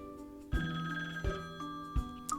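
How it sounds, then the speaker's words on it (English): Telephone ringing in a puzzle adventure game, three evenly spaced trilling rings over a sustained musical tone, close and clear with no voices. "Oh, that's the phone."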